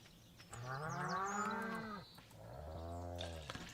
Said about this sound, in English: the cows are noisy today, huh?